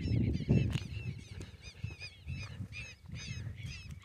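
Ducks call repeatedly during an outdoor hunt, a series of nasal, honking quacks coming in quick bursts at moderate distance over a low rumble of background noise.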